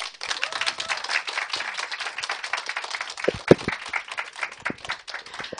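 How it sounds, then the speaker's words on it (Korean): Audience applause after a lecture at an Amway business talk, steady dense clapping from a room of people, fairly close and continuous throughout, with a few sharper claps standing out and no talk over it. "열정적으로 강의해주신 임보정 사장님께 다시 한번 큰 박수 부탁드립니다"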